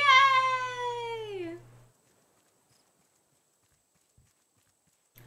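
A goat in the survival video game Raft gives a single loud, falling bleat, followed by near silence and a faint click.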